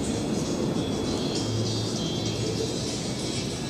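Blue Angels jets in diamond formation at the Seafair airshow roar overhead as a broad, steady engine rumble, loud and sustained throughout with no break.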